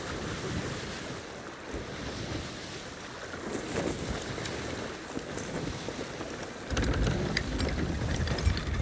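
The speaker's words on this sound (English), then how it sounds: "Go ahead and raise that sail." A sail being raised on a ship in the game Sea of Thieves, with ratcheting clicks over steady ocean waves and wind, the sea growing louder and fuller toward the end.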